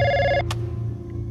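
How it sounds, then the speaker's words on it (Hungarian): A telephone rings briefly at the start, a single tonal ring in a quiet room with a low background hum, then stops. "Ez Kramerik telefonja."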